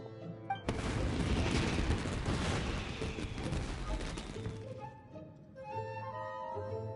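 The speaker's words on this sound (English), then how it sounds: "Yoimiya, this is turning into a bit of a fireworks display." Fireworks burst in the Genshin Impact video game, a dense, loud barrage of crackling booms that runs for several seconds over tonal game music, then thins out as the melody continues alone.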